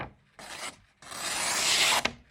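A freshly sharpened Victorinox multitool knife blade slices through paper in two rasping strokes, the first short and the second longer and louder, ending in a sharp tick.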